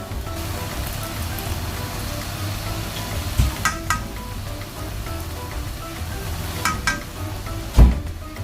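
Tomato puree sizzles in a pan of frying spices, a soft continuous crackle close by, broken a few times by light clinks and knocks.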